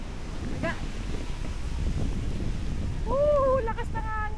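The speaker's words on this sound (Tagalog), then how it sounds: "Lakas ng hangin!" Steady low rumbling gusts of strong wind buffet the microphone, with brief voices cutting in near the end over the roar.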